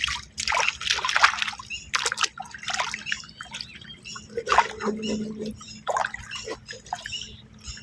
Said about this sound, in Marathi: आणि हे आता बुट धुतो